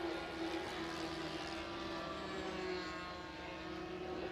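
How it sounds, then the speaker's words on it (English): A model aircraft engine at the Woodspring Wing Show hums as a steady, faint, distant drone with a constant pitch, no voices heard. "I think that was the plane stopping over there."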